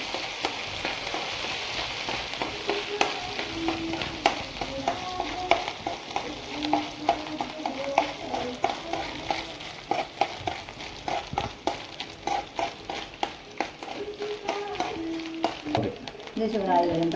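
Small sardines and grated coconut frying in a pan, a steady sizzle under repeated scraping stirs from a spoon, close and moderate in level.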